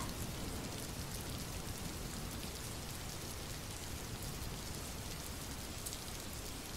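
Rain falls steadily on surfaces, a dense, even hiss of countless drops that stays unchanged and fairly faint throughout, with no voices.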